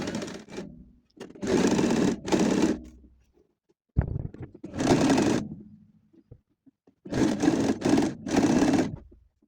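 An overlock sewing machine stitching blouse fabric in short loud bursts of rapid whirring, separated by silent pauses, close up with no talk.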